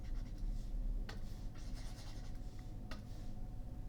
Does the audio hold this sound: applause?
no